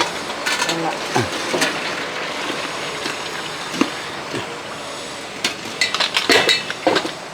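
A metal pot is handled after a pressure cooker is opened while making a Kerala evening snack: close metallic clinks, scrapes and clatters come in irregular bursts, busiest toward the end.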